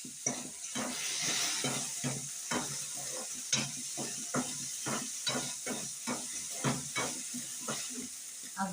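Okra palya being stir-fried in a pan at home, a steady sizzle and hiss broken by repeated scraping stirs that come in quick, uneven bursts, close and moderately loud with no talk.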